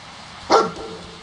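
A dog in the video game Fallout 4 gives a single short, sharp bark midway through an otherwise quiet stretch.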